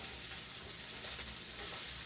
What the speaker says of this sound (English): You want to stir this a little bit.